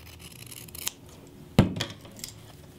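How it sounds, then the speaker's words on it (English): Scissors snip through border print quilting fabric to cut a mitered corner, two distinct crisp cuts with a short rasping slide between them, close and fairly quiet. "I will cut this miter exactly the same as the other miter"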